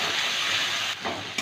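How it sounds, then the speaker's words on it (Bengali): Ginger paste fries and is stirred in hot oil for bitter dal. The close, steady sizzle is loud and continuous, with a short dip about two-thirds through before the hiss picks up again. "আদা বাটাটা বেশি ভাজবো না, একটু নেড়ে চেড়ে ডালটা দিয়ে দেবো"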